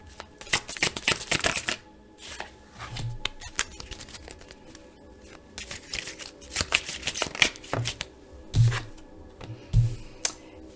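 Tarot cards being shuffled by hand in a card reading, with bursts of crisp riffling and soft flicks repeating in quick runs, close and moderately loud, with no talking.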